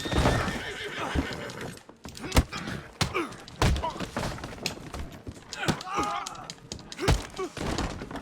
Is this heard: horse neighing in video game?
yes